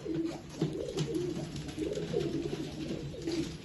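Several old-line pigeons at a Bangalore loft give repeated rhythmic coos, rising and falling in low throaty bursts close by, with no talking over them.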